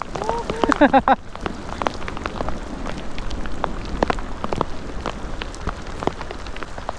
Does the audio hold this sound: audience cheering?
no